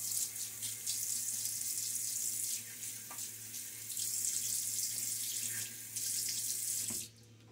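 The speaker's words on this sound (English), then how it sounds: "Dribble a little bit more water on the brush for this last" Tap water runs steadily into a sink while wetting a shaving brush during a wet shave, a continuous close hiss with brief dips and a small clink near the end before it cuts off.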